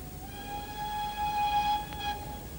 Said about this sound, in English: Such as number 673 Maud, pulling and puffing and belching with its vintage train